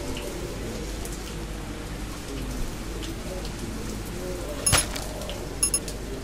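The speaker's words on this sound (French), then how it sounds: "the rain is easing up" Steady rainfall in the zombie survival game Zafehouse Diaries, a constant soft hiss of drops with a couple of brief clinks near the end, heard alone without talk.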